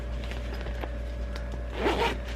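A zipper closes a knitting or crochet project bag with a short, close rasp that swells near the end, heard over a low steady hum and with no talking.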